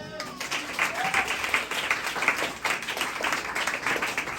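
A church congregation claps together at a Sunday service in steady, continuous applause, with a voice faintly present beneath the clapping.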